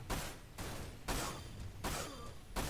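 Rapid bursts of gunfire from shooting enemies in Dirge of Cerberus come in repeated clusters, each volley separated by brief gaps, loud and close.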